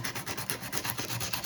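Sandpaper rubs by hand in steady rapid back-and-forth strokes, a continuous close, raspy scratching with no voices.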